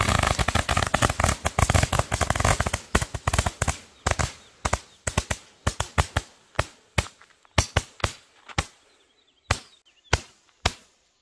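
Roman candle fireworks fired in quick succession like a minigun: a dense, rapid volley of sharp pops that thins into separate, evenly spaced loud bangs, with no voices.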